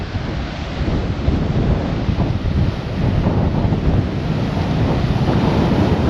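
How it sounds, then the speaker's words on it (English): Strong, steady wind buffets the microphone on the exposed headland at Portland Bill, Isle of Portland, with rough sea surf roaring underneath; a continuous loud rumble with no voices. "You can probably hear the wind."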